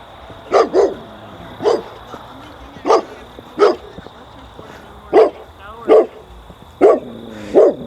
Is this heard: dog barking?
yes